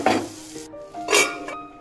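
A spoon stirs tomato vegetable curry in a pan, producing close scraping and clinking over a soft sizzle, with two short bursts of stirring and no talking.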